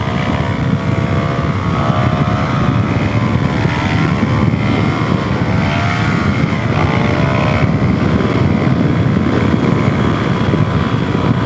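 A Suzuki DRZ400SM motorcycle engine drones loud and continuous during a wheelie, its revs wavering slightly under heavy wind rush.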